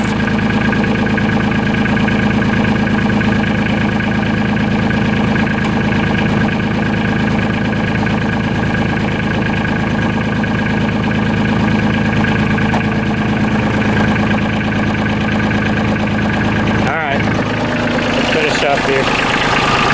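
A Kioti CK27 compact tractor's engine idles steadily with the hood open, a constant close mechanical drone with a brief disturbance near the end.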